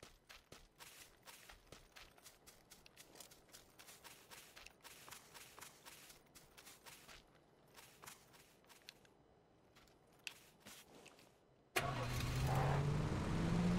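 Vehicle engine in the video game PUBG starts up abruptly after quiet footsteps and rustling, then runs loud and steady to the end.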